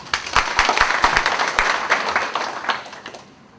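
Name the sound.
audience applause for union chairman's opening address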